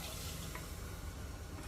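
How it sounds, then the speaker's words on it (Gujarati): Water pours into a pot of black pea curry masala, a brief steady rushing splash with a faint sizzle underneath and no talking. "એમાં હવે નાખી દઈશું પાણી"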